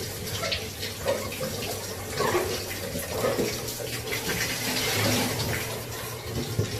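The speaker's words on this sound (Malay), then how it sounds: "kita akan basuh bersih-bersih air panas lah" Hot tap water runs while a fish tank is being washed, a fluctuating splashing rush with bubbling and sloshing as the water moves around the tank.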